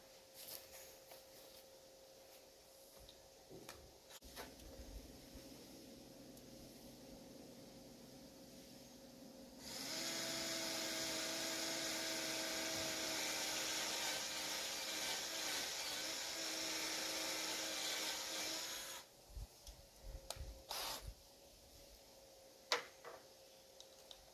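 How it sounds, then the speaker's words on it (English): Power drill countersinking screw holes in thick wood while building a garden arbor, a steady loud whirring grind lasting about nine seconds, with lighter handling knocks and clicks before and after. "because I don't have many screws that are long enough to go into this deep wood here, I am actually countersinking"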